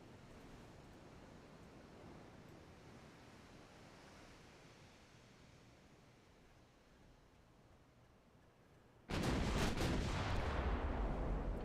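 Naval artillery fire in the warship game Ultimate Admiral Dreadnoughts: a sudden loud, heavy cannon blast breaks in near the end over a long stretch of low sea-like rumble and wind.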